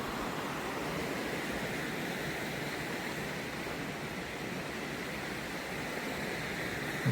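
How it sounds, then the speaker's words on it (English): Rushing water fills a forested state park setting in Arkansas, a constant, even roar with no breaks, moderately distant and steady throughout. "Can't hear anything over the water, so I won't be able to use the parabolic mic."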